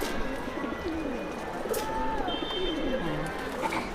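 Madrasi pigeons cooing close by, soft low throaty coos rising and falling over a constant noisy background hum, with a few faint chirps mixed in.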